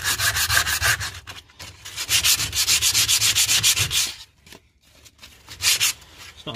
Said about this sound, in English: I'm going to get into the corner here where the seal is for the sill, with the hand sander as well.